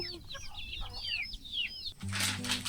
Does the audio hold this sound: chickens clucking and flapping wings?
yes